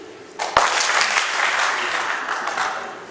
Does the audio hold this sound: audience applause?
yes